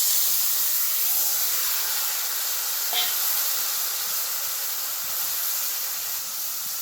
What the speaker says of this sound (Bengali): এবার অল্প পরিমাণে জল দিয়ে দিচ্ছি।